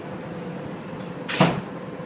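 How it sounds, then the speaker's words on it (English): Doors of a Las Vegas Strip tram sliding shut, a short soft thud and rush of air heard once over a low steady hum of the car interior, fairly quiet and alone. "The doors are closing."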